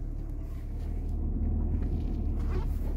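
A Honda car engine idling steadily just after starting, a continuous low rumble close by with no break across the whole moment.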